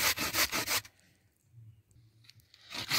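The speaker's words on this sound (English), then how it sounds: "I'm going to grate my cocoa." Cocoa being grated by hand for a sweet potato Christmas pudding, with a burst of quick, loud rasping strokes, then a quiet pause with faint low rumble and small clicks, and rasping resuming at the end.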